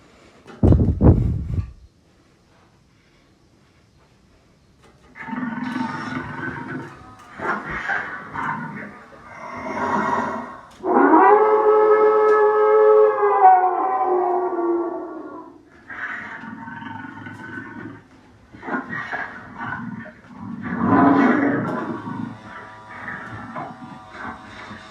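A Spirit Halloween Mr. Howle animatronic prop running in sensor mode lets out growls, a drawn-out howl and snarling vocal effects with mechanical noise underneath, after a sharp thump at the start, at moderate volume.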